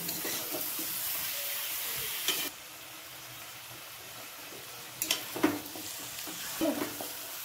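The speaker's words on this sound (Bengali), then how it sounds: "এটা 20 মিনিট আমি কষবো চিকেনটা।" Chicken stir-frying in a pan, simmering down for twenty minutes as it releases water, with a soft continuous sizzle and hiss, occasional stirring clatters, and a brief drop in level midway.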